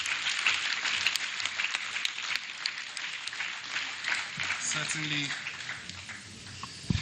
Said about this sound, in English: Please, let's give him a rousing round of applause